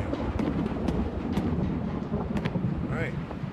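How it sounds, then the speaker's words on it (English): Thunder rolling outside during a storm in the indie horror video game Samhainophobia, a continuous low rumble with rain and wind beneath, steady and fairly loud throughout. "And it's thundering outside."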